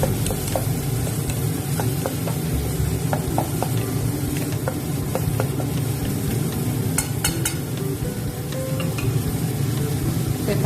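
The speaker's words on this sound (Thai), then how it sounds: "ผัดให้หอมนะคะ ไฟก็ปานกลางนะคะ ไม่ต้องร้อนมาก ค่อยๆผัดไปค่ะ" Garlic stir-frying in a pan over medium heat, a steady soft sizzle with scattered clicks and scrapes of a utensil stirring, continuous and close, with no talking.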